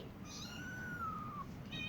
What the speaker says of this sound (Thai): มีลูกแมวสามตัว